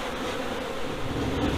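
Honeybees buzz steadily at an open hive on a farm, a dense, continuous hum that stays close and even throughout, with no voices over it.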